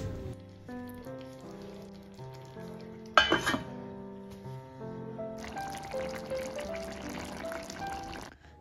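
Water poured into a hot new kadai of cooking chicken for a green hariyali gravy, a loud hiss at the moment of pouring, then steady frying sizzle and bubbling over a continuous background tone, with no talk.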